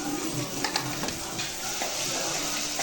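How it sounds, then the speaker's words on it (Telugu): Sliced onions sizzle softly in a pan for a potato curry, with a spoon stirring and scraping against the metal in quick, uneven strokes. "ఉల్లిపాయలు అయితే వేపుతున్నానండి"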